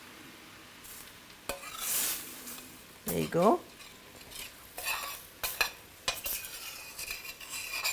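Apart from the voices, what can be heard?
dal liquid deglazing a pan, stirring and sizzling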